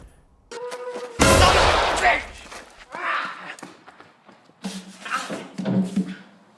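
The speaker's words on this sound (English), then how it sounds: "John really shrugged off that rifle round." One loud, close rifle shot bursts out and fades over about a second, followed by scuffling footsteps and bits of voices talking.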